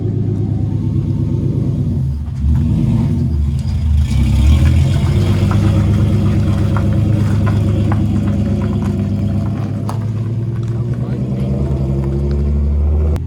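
A Z car engine, just repaired and driving with a 6-speed gearbox, gives a loud, close, low rumble from inside the cabin, steady with a brief surge, while people chat over it.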